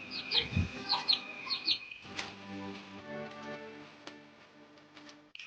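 Chickens cluck and chirp nearby in short bursts, followed by a soft, drawn-out low clucking that fades out.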